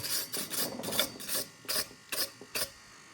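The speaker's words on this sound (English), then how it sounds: "give it a bit of wire brush" Wire brush scrubbed across a flux-core weld during a budget Hayabusa turbo build, heard as rhythmic rasping strokes, about eight close scrapes in quick succession with brief gaps between them, and no voices.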